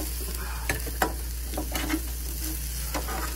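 Pork fried rice with canned peas and teriyaki sauce sizzles steadily on a Pit Boss griddle at a campsite, with a spatula scraping and stirring in close, irregular strokes and no talking.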